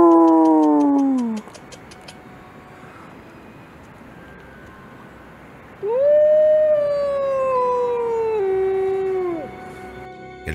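A wolf's long, sliding howl rises and falls, answered by people howling back; the calls come in two loud, drawn-out waves separated by a quieter stretch of ambient noise.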